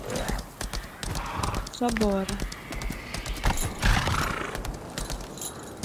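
Horse hooves clip-clop in the video game Lost Ark, with a clear neigh in the middle, mixed with game sounds while a person talks briefly.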